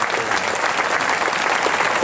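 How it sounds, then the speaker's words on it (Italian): An audience claps loudly and continuously at a live stage show in San Giovanni Suergiu, a dense, steady wash of applause with no voices over it. "fare un grande applauso meritato a quel grande conduttore"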